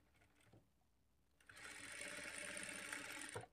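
A sewing machine stitches a blouse dart, running steadily and close from about a second and a half in after a quiet start, with a soft click just before it begins and another as it stops.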